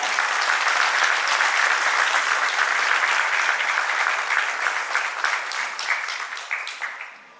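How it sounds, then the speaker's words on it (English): Sustained, dense applause fills a hall as the audience at a breast cancer book launch welcomes Isha Ambani Piramal, holding steady and then thinning out and fading near the end. "A big round of applause for her."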